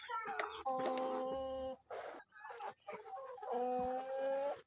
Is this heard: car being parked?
no